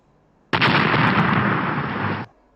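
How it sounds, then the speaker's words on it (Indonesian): A game explosion set off when a ball strikes a wall: one abrupt loud blast that holds as a dense roaring burst for nearly two seconds and then cuts off sharply, heard alone. "Dan pada saat itulah kita memanggil ledakan."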